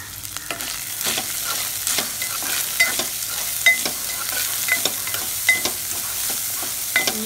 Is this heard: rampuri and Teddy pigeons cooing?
no